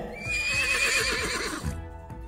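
A horse gives a loud, close whinny lasting about a second and a half, with a quivering, wavering pitch before it breaks off, then a short soft snort.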